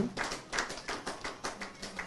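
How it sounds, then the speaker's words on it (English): Applause from an audience at an investiture and induction ceremony, a brief stretch of scattered, fairly faint rhythmic clapping. "Give her a resounding round of applause as she comes forward, please."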